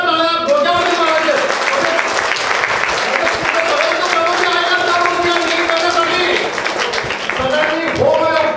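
Audience at a village award ceremony in a hall bursting into hearty applause, dense clapping throughout while a voice carries on speaking over it.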